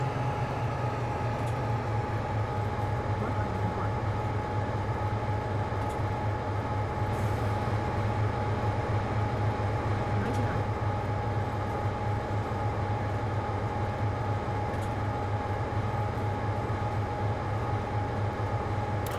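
Continuous low rumble of a BR Class 55 Deltic train running along the track in a train simulator game, steady and droning with faint rhythmic clatter and occasional soft clicks.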